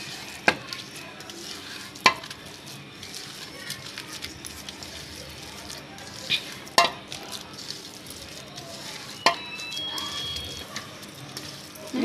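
Chicken lollipop pieces being mixed by hand in a bowl of marinade, a soft wet squelching and stirring with occasional sharp clinks of utensils against the bowl, close and moderately quiet.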